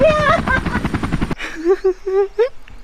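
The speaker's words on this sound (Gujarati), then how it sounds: "કેવું મસ્તીનું હેલિકોપ્ટર જાય છે અને એના પાંખડા તો જો કેવા ગોળ ગોળ ઘૂમે છે" A helicopter flies overhead, its spinning rotor blades giving a loud, rapid chopping pulse for the first half before it cuts away to a voice talking.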